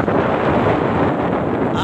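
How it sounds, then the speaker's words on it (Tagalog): Strong wind roars across the summit of Mount Manalmon, a steady, loud, close buffeting rush that batters the microphone for the whole stretch without a break. "napakalakas na hangin dito"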